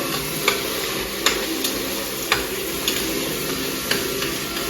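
Ginger paste fries in a pan with a constant close hiss and crackle of hot oil, broken by regular light taps and scrapes of a spoon stirring about once a second.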